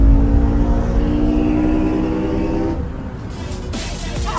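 Race cars accelerate hard in a close finish as one passes a Honda Civic SE, loud engines roaring steadily, then the tone breaks into a harsher, brighter burst near the end; no talking.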